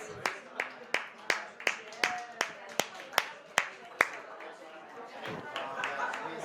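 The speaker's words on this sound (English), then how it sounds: "Give yourselves a round of applause." A small audience at a talk gives itself a round of applause: a handful of sharp, evenly spaced claps from one nearby clapper over faint background clapping, fading into murmuring voices toward the end.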